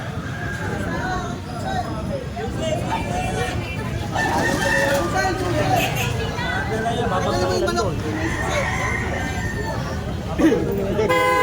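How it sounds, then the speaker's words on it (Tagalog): Caged fighting roosters crow repeatedly over a busy background of voices and chatter in Manila, with a brief horn-like toot near the end. "Puro manok nga lang."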